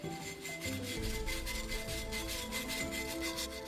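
A wire brush scrubs rust off an old axe head, with close, steady rasping strokes in a quick back-and-forth rhythm and no voices.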